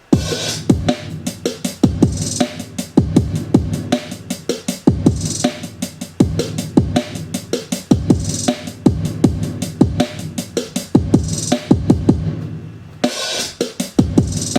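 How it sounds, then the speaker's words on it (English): A punchy sampled drum beat loops steadily with tight kicks, snares and hats at a brisk, even tempo, loud and upfront with no voices. "So the beat is all samples,"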